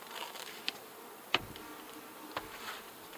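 Honey bees drone softly at the front of a hive, a faint, even buzz broken by a few brief taps and clicks nearby.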